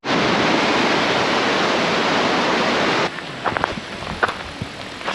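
A waterfall, the Staubbach falls in Switzerland, roars loudly as a dense, steady wash of spray for about three seconds, then drops away to a quieter outdoor background with a few small knocks and bumps.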